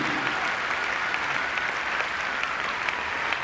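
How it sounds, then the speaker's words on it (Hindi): An audience at an Amway success seminar claps for a newly promoted Double Diamond member, a sustained, even patter of many hands heard throughout at moderate level. "जोरदार तालियां दीजिए brand new double diamond lady Sunita के लिए।"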